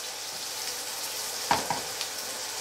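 Onion and garlic softening in a hot pan give a steady, soft sizzle, close up, with a few light clicks of stirring partway through.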